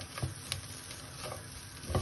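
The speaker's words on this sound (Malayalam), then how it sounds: "ബ്രെഡ് ക്രംസ് ആഡ് ചെയ്തതിന് ശേഷം ഒന്നും കൂടി ഒന്ന് മിക്സ് ചെയ്യാം." A jackfruit and drumstick-leaf cutlet mixture is stirred with bread crumbs in a pan, soft scraping and light sizzling with a few clinks of the spoon, close and without talk.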